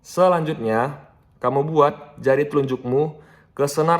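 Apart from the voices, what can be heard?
No everyday noises stand out.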